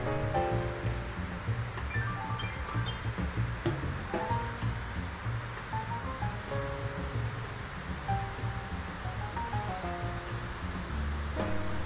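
Water cascading in New York makes a steady, broad rushing wash that runs throughout, heard beneath prominent music.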